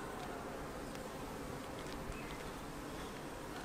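Honeybees buzzing densely around an open hive frame, a continuous close, even drone of many wings with no pauses and no voices.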